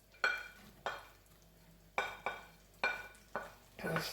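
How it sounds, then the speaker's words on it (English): Scotch bonnet pepper, scallion and onion being stirred into coconut milk reduced to cream for a vegan Jamaican ackee rundown, giving several quiet scraping stir strokes with a soft simmering hiss between them, close and fairly faint. "It's everything stir fry, saute in the coconut milk"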